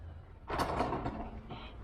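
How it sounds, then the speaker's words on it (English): An ADI three-point boltlock bolt scraping against concrete on a commercial fire exit door, one short grinding creak lasting about a second, close and fairly faint. "The bolt is rubbing slightly on the concrete"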